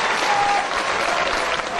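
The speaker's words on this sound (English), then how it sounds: "This crowd getting behind CM Punk nonetheless" Wrestling crowd at a CM Punk versus Samoa Joe match cheering and applauding for CM Punk, a loud, steady wash of clapping and crowd noise throughout.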